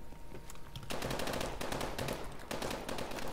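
Fast automatic gunfire rattles in the video game COD Advanced Warfare, close and loud, coming in dense bursts with brief gaps between them.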